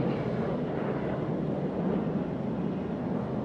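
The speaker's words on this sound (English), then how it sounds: "there you see his airplane departing on the left side" Racing airplane departing at a national championship air race, a steady broadband engine roar with wind rush, loud and continuous and unbroken, with no voices.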